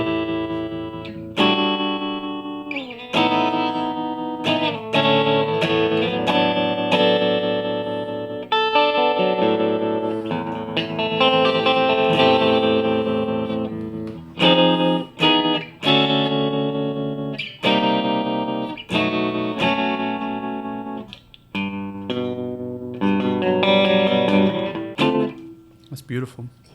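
An electric guitar plays chords and single notes through a Strymon Flint pedal's 65 photocell tremolo, the volume throbbing rhythmically throughout a long, loud passage.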